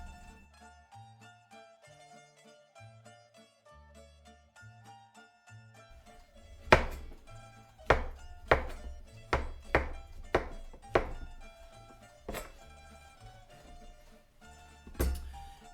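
A knife cuts through mushrooms for chicken Marsala on a board, a series of about a dozen sharp, irregular knocks and thunks that grow busier midway, heard over soft background music.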